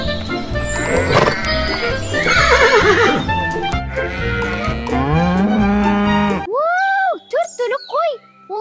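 Cartoon farm animals, a camel, horse, cattle and sheep, call out over a bright music score: lowing moos and a horse's whinny sound loudly, then a few short rising animal cries come alone after the music drops.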